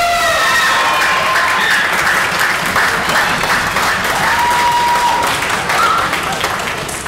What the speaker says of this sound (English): So if you all could stand and get some applause, we have Jackie Craig.